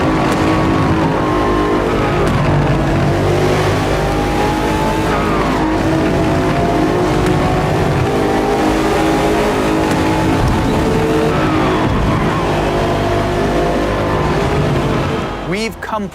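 BMW M8 race car from Forza Motorsport (2023) roaring continuously at close range, a loud sustained engine drone with rising and falling pitch through gear changes and brief tire squeal.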